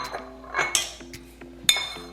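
Small bowls or platters set down on a kitchen counter while preparing a low-carb crusted salmon dinner: a few light, sharp clinks of dishware, close and clear, with no talk.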